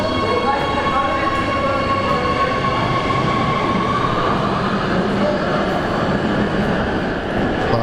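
Oslo metro or tram train running past a station platform, a steady broad rumble with rail hiss and faint tonal whine throughout, close and continuous.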